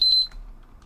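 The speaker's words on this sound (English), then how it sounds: "it beeps when you walk through it" A laser tripwire alarm in an Unreal Engine 5 game gives a short, loud electronic beep that cuts off quickly and leaves faint low background noise.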